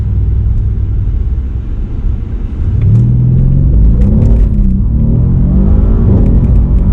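A Mercedes C63 AMG in race mode roars loudly at full throttle, revving hard toward 7,000 rpm and climbing in pitch, with a deep exhaust rumble throughout.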